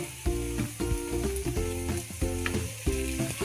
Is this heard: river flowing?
no